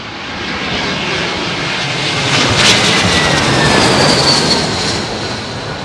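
Airliner on a windy approach to land at Heathrow Airport, a loud, broad jet engine roar swelling and easing as it passes close overhead, with no voices.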